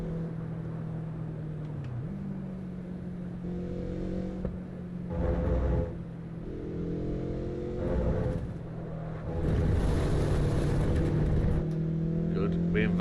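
A racing car engine in Assetto Corsa Evo drones with a steady throaty tone, rising and dropping through revs and gear changes, with a voice talking intermittently over it.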